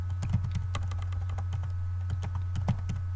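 Keys clack on a computer keyboard while Python code is typed, in quick irregular bursts of close, crisp taps over a steady low electrical hum.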